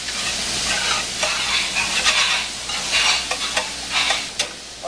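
Food browns in olive oil in a pan for a Bolognese sauce, giving a steady, close sizzle broken by brief scraping stirs, with no talking.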